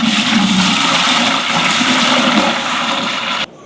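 Water gushes steadily into a cooking pot in a home kitchen while idiyappam is being prepared, a loud continuous pour lasting a few seconds before stopping.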